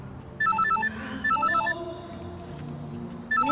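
A telephone rings with repeated bursts of an electronic trill at a steady rhythm, fairly close and clear, with quiet room tone between the rings and no talk.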